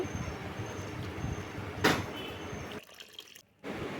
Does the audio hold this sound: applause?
no